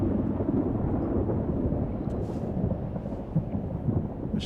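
A thunderstorm in the game Life Is Strange: Double Exposure rumbles low and continuous, a dense roll of thunder with a hiss of rain and wind, steady and fairly loud throughout without any voices.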